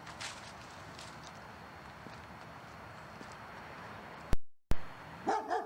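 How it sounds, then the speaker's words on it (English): A German Shepherd barks near the end, two or three sharp loud barks that come suddenly after a stretch of quiet ambient hiss, with a short gap of silence between them. "Oh my god, that dog made me jump."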